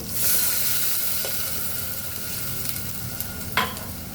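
Masala fries in a pan for a shrimp and ash gourd dish, a steady hiss of sizzling oil with a swell as a little water goes in, then a single sharp scrape of stirring.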